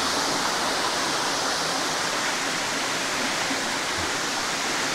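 Steady, full rush of a cascading waterfall at the Olginsky waterfalls in eastern Abkhazia, a dense continuous roar of falling water that holds at the same level throughout with no voices.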